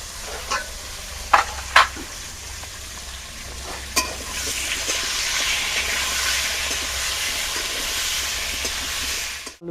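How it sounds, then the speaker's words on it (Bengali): Potatoes frying in a pan on a village kitchen stove after salt and turmeric are added give a steady close sizzle and hiss, broken early by a few sharp scrapes and clanks of stirring. "আলুটা ভাজা হয়ে গেছে"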